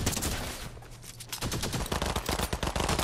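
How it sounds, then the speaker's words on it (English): Video game gunfire, rapid automatic bursts of close, loud shots crackling densely in the second half after a quieter opening. "Oh god, I'm getting shot in the back now."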